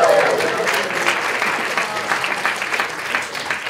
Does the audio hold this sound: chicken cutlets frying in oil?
no